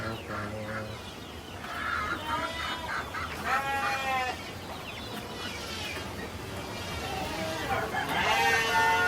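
Mother hens and other chickens in a village coop, clucking and crowing calls repeating close by over a busy farmyard background, with someone speaking at times.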